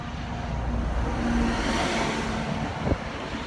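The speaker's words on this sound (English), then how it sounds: "Got a nice bus coming past" A bus rolls past on a busy arterial road, its engine drone and tyre rush swelling and fading over a few seconds amid steady traffic noise and some wind buffeting.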